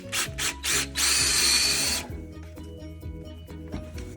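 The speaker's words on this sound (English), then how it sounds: "So I have a paint stir on a cordless drill" A cordless drill fitted with a paint stirrer whines in short revving bursts, then a longer high whir, before settling into a lower, steady churning rhythm as it mixes.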